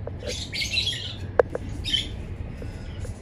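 A pet bird, one of a breeding pair kept by neighbours, lets out a loud, sharp squawk partway through, with a couple of shorter calls around it, over steady low background hum and faint chirping.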